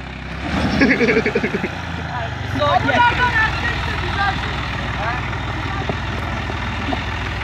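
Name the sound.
Massey Ferguson 240 tractor engine bogging down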